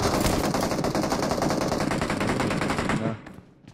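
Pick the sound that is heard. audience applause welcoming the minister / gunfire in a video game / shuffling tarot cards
gunfire in a video game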